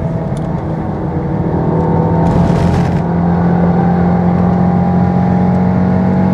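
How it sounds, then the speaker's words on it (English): A Stage 3 Volkswagen Golf R at full throttle on a track, heard from inside the cabin as a loud, steady engine drone with a faint whir and a brief higher hiss midway. The car has a juddering fault. "Like that, that's full throttle."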